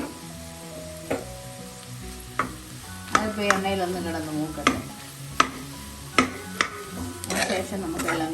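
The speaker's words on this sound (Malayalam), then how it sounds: "ശേഷം നമുക്കെല്ലാം കൂടെ ഒന്ന് മിക്സ് ചെയ്ത് കൊടുക്കാം." Koorkka (Chinese potato) stir-fry with ground coconut paste is being stirred in a pan, giving repeated sharp spatula scrapes and clacks over a steady soft sizzle, about a dozen strokes at an uneven rhythm, close and moderately loud.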